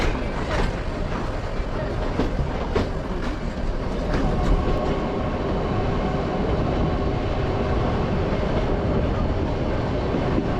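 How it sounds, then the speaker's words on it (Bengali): The Nilgiri Mountain Railway toy train runs between Coonoor and Ooty, a steady rolling rumble with rhythmic clickety-clack of wheels over rail joints, heard from on board at moderate volume. "এবার আমাদের ট্রেন ক্রস করছে সুন্দর একটি স্টেশন"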